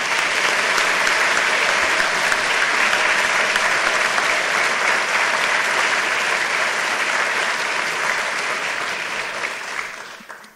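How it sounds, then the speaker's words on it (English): Sustained loud applause from a large audience after the 2016 Kerferd Oration presentation, a thick continuous wash of clapping that holds steady for about ten seconds before tapering off at the end. "give a round of applause to thank Mr Mackay for his presentation"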